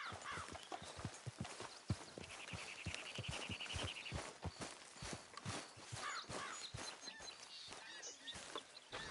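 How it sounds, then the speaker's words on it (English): A horse's hooves clop in a busy, uneven rhythm close by, with a brief bird call and faint voices under the steps. "get that horse out of here"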